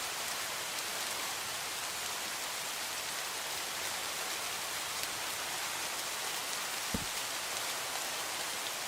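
Steady Minecraft rain, a dense, even hiss of falling drops that carries on unchanged throughout, with one brief low thud partway through.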